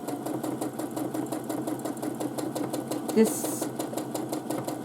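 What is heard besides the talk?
sewing machine free motion quilting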